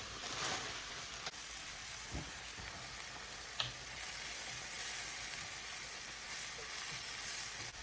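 Ground beef and onions sizzle steadily as they brown in a pan, a continuous close frying hiss with an occasional light clink, no talk.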